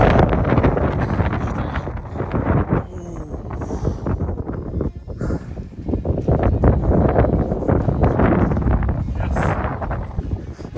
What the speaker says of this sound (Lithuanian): Vėjas atsirado nemankas.